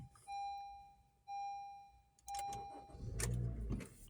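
A 2015 Honda Civic with its ignition switched on gives three clear electronic chime tones in a row, each sustained then fading, followed by a louder burst of relay clicks and dash-system activity, close up with no talking.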